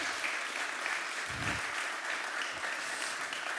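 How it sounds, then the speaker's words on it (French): Audience applause for a presenter at an event, a continuous even patter of many hands clapping at moderate volume, heard alone for a few seconds. "je pense qu'on peut vous applaudir"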